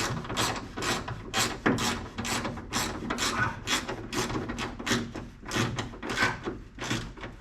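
A hand ratchet tightening the grille bolts on a 1996 Ram pickup clicks in a steady, rapid rhythm of back-and-forth strokes, close up and fairly loud, with no one talking.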